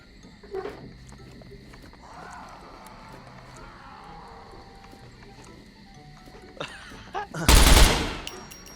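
Sparse video game sounds with a few distant shots, then a loud close burst of gunfire near the end.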